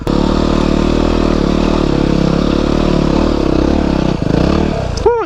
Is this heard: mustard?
no